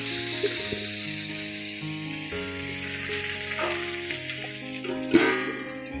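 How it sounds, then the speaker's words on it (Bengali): Sliced pointed gourd (potol) sizzles steadily in hot oil in a home kitchen, a continuous crackling fry with one sharper pop near the end. "পটল দিয়ে ভাজবো, তারপর আলু ভাজবো।"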